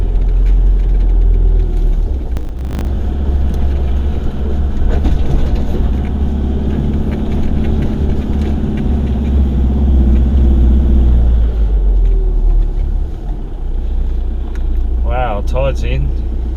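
Vehicle cruising along a road toward the mouth of the Gardner River, a steady low engine and tyre rumble from inside the cabin, with voices occasionally over it.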